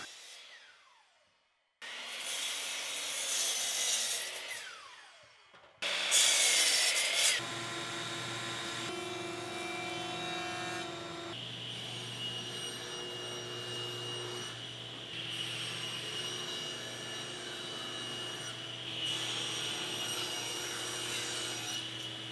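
Rough-length cuts through 5/4 cherry and walnut lumber, a short burst of sawing, a pause, then a long steady whine of a power saw running with a constant low hum.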